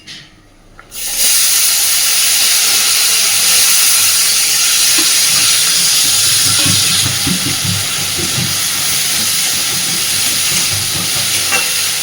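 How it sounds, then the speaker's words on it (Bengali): Cut, washed potatoes dropped into hot oil with black cumin seeds, bursting into a loud, continuous sizzle and hiss after a short quiet start, with occasional stirring clatter. "এই কেটে ধুয়ে পরিষ্কার করে রাখা আলুটা এবার আমি তেলের মধ্যে দিয়ে দেবো"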